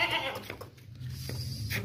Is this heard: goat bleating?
yes